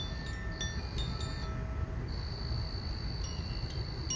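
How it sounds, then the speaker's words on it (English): Crickets chirp in a steady, high-pitched drone with a few brief pulses. The sound is faint and continuous across a quiet outdoor background, and no one speaks. "Whether it's the sounds of the crickets,"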